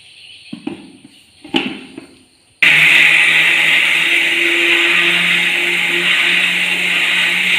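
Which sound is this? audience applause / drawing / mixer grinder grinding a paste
mixer grinder grinding a paste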